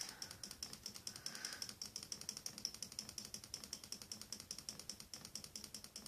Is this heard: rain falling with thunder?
no